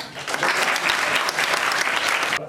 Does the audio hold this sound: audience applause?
yes